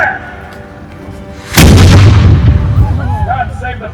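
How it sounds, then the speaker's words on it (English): A single loud colonial-era cannon blast at a living-history reenactment in Colonial Williamsburg, a sudden deep boom after quiet ambient murmur, followed by a long rumbling decay with crowd noise lingering. "it warrants the roar of a cannon before I begin"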